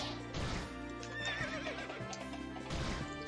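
A bulky horse in the video game Turovero gives a shrill, wavering whinny over a rhythm of hoof clip-clops, fairly faint and alone with no talk.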